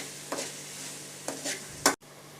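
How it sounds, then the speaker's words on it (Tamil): Ginger garlic paste hits sautéed onions in a hot pan, giving short bursts of sizzle and spatula stirring in three quick strokes, the last loudest before an abrupt cutoff; quiet and close, no talking. "இப்போ இஞ்சி பூண்டு பேஸ்ட்டு போட போகிறேன்"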